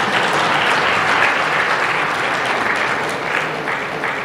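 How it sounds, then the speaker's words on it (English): Steady, dense applause from a large audience at an awards ceremony, loud and continuous throughout with no talking. "give you a round of applause?"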